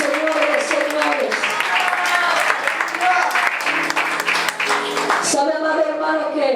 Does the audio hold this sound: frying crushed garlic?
no